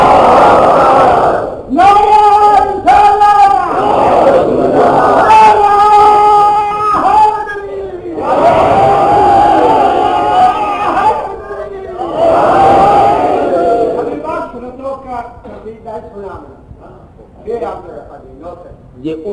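A crowd at a religious majlis gathering chanting slogans in loud unison, with repeated call-and-response bursts of voices that fade toward the end.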